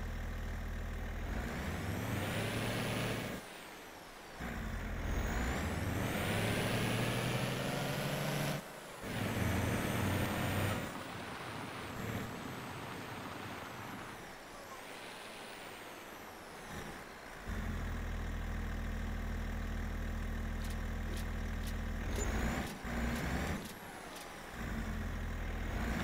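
A truck sounds throughout, with loud bursts of air brake hiss and a rumbling engine. There are short gaps where the noise drops away, and the sound stays loud and close with no voices.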